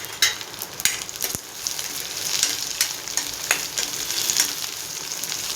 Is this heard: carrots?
yes